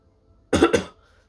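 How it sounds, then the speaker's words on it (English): A single sharp cough in two quick bursts, close and fairly loud, alone against near silence. "Sorry guys, it was just a cough."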